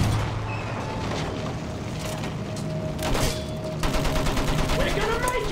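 Battlefield 1 gameplay with bursts of gunfire and sharp shots over dense battlefield noise, loud and continuous, with heavier booms toward the end.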